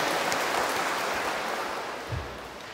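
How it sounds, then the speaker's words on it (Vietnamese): Congregation applauding at a Catholic wedding Mass in a parish church, a dense wash of clapping that fades slightly toward the end, with no talk over it. "xin cộng đoàn chúng ta nổ một tràng pháo tay để chúc mừng anh chị cùng hai bên gia đình"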